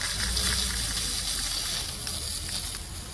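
Water gushes steadily from a clean-out hose used to unclog an RV black tank, flowing freely with no pipe attached, in a loud, broadband rushing stream, continuous and close, fading slightly toward the end.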